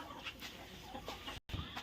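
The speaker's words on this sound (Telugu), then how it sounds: "సో ఇప్పుడైతే వాళ్ళకి కోళ్ళు పట్టిస్తున్నామండి" Native country chickens on a farm cluck in short bursts at close range, with a brief dropout partway through and no talk.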